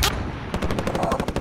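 Gunfire in the Modern Warfare video game: a single loud shot, a brief lull, then a rapid automatic burst of evenly spaced cracks, close and punchy, with no talk.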